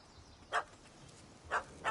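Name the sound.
small dog barking, from video game The Witcher 3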